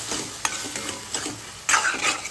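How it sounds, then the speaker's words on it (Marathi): Chickpeas for chole are stirred in a cooking pan with a soft sizzle. Scraping strokes fall in an irregular rhythm, and a louder scrape and fry swell comes near the end. "आता फक्त हे जरा छोले आपण असे घालून असे घालायचे, आणि थोडं मस्त हलवायचं याला"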